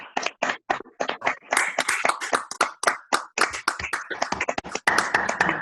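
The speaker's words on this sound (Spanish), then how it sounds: "que hagamos un gran aplauso en voz alta" Applause in an online training session, a scattered run of separate claps from a few people, close and uneven, gradually growing denser.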